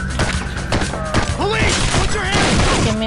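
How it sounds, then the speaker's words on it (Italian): Gunfire from the SWAT 4 tactical shooter game, a dense burst of shots and thuds mixed with shouting and game sounds, loud and continuous throughout. "Sento delle grida e degli spari"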